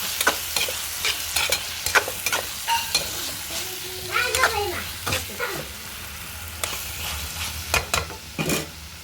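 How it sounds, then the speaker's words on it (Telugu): A spoon scrapes and stirs drumstick and tomato curry with chili powder in a pan, giving repeated clinks and scrapes over a steady low sizzle, close and fairly clear. "కారము వేసాను ఫ్రెండ్స్ చాలా తిప్పుకుందాం"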